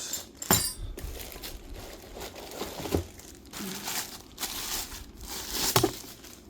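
Small metal hardware for a monitor arm, Allen keys, nuts and bolts, handled in packaging, giving several close crinkling bursts and faint clinks with quiet pauses between.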